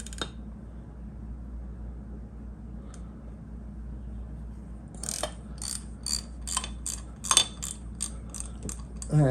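A screwdriver works a screw on a Honda CB550 carburetor float bowl, starting after a quiet hum with a run of sharp metallic ticks and ratcheting clicks, close and moderately loud, without talking.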